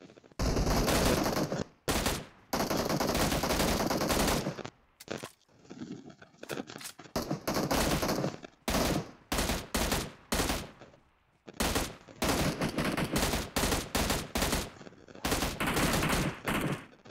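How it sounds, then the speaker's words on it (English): Gunfire in the mobile battle royale game PUBG Mobile: long, loud sustained automatic bursts broken by short gaps, then a run of rapid single shots and short volleys, close and dominant throughout. "Somebody shooting."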